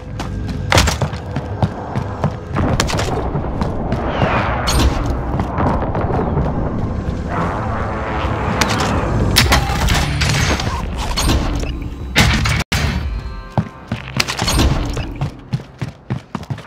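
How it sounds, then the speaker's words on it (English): Precision airstrike in Call of Duty Warzone: a barrage of loud, rapid explosions and thuds rolling one after another, with gunfire-like bursts scattered through the dense battlefield din. "Allied precision airstrike incoming."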